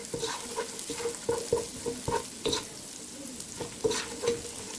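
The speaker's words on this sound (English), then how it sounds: "I'm adding in about a clove or 2 of fresh garlic here." Fresh garlic frying in a pan for a beef meatball sauce, stirred with repeated scraping strokes over a steady close sizzle, with no voices.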